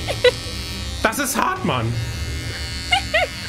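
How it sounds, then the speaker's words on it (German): An electric shaver buzzes in short close bursts that are cut through by a voice talking over the razor. "Was ist denn das für ein Rasierer?"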